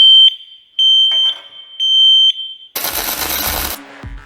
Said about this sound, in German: Es hat plötzlich einen Haufen Rauch und dann geht der Alarm los.